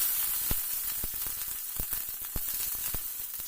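Cauliflower frying in hot mustard oil with turmeric and salt in a kadai, a steady soft sizzle broken by small crackling pops, fairly quiet with no voices.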